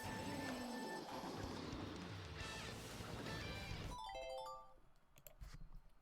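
A phone ringtone plays as a loud, bright melodic tone pattern, with a sudden cut to softer repeating chimes and bits of background noise toward the end.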